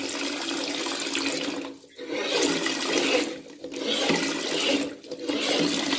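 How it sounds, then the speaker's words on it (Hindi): Toilet cistern refilling with water as the float rises, a continuous rushing, hissing stream that dips briefly in surges, close and steady with no voices. "पानी सिस्टम के अंदर चालू हुआ, जैसे जैसे सिस्टम के अंदर पानी भरेगा ये फुटबॉल"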